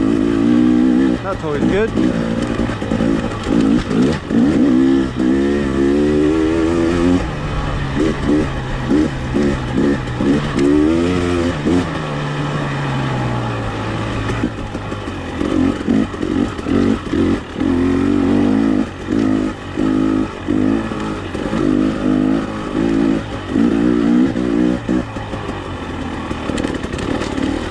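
A 2021 KTM 300XC two-stroke dirt bike on a mountain trail ride revs and bursts through repeated throttle blips and buzzing acceleration, loud and near, with people talking briefly.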